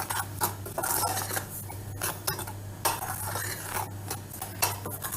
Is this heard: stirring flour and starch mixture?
yes